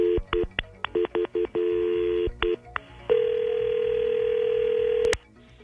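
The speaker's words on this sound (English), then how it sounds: "We're calling up Brian's girlfriend to see what she sounds like talking to another guy" A telephone keypad gives a rapid run of short dialing beeps, then a long, steady ringback tone that stops abruptly, with no one talking.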